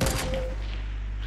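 A single semi-auto rifle shot in Fortnite, loud and close at the very start, its report dying into a low rumbling tail.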